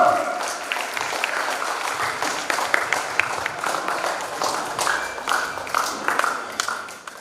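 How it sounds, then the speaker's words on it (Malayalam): A seated audience claps at a school cultural program in a Boys High School courtyard in Vadakkanchery, marking the close of a disability awareness month; dense, steady applause with scattered sharp claps runs throughout, with a voice faintly underneath. "നല്ല കൈയടി കൊടുക്കൂ"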